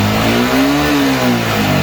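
A Yamaha Xabre motorcycle with a battery charging fault revving at high RPM, producing a loud, close, sustained engine drone that swells and eases slightly without any voices.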